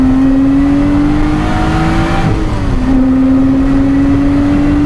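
A race car engine roars steadily at high revs on the Oulton Park circuit, pitch climbing, dipping briefly during a gear change, then rising again; loud, close, continuous.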